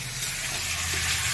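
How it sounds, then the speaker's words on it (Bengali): Shankar stingray fish frying in a pan at home, a loud, steady close sizzle with faint stirring, brief and without talk. "শঙ্কর মাছ ভাজা।"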